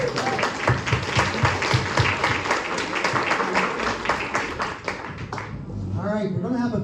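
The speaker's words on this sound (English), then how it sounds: "let's give a nice round of applause for Marty Crapper and the King of Swing." Audience applause at a 25th anniversary community event, steady dense clapping from a crowd for about six seconds with some voices mixed in, fading toward the end as talk begins.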